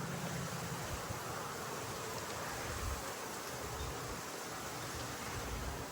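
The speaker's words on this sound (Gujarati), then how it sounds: "આજે સવાર પડી ગઈ છે અને જો સવારમાં વરસાદ ચાલુ થઈ ગયો છે." Steady morning rain with gusting wind, a constant broadband wash with low rumbling buffets throughout, moderately faint and with no voices.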